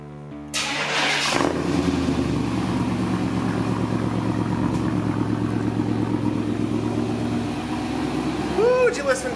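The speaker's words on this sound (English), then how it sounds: "did you listen to that good old Vortex 350 purr" A truck's Vortex 350 engine cold-starting after sitting a while: a brief cranking whir, then it catches and settles into a loud, steady rumbling idle close by, with a voice briefly heard near the end.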